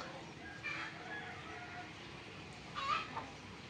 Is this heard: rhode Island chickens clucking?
yes